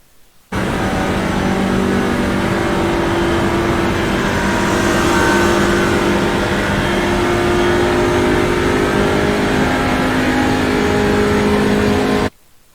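Racing car engines roar loud and steady along a long straight as an Audi GT3 R8 overtakes in an iRacing practice session at Spa, a continuous droning engine note that swells mid-clip, with no talk.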